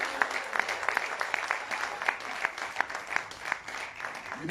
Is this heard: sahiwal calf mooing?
no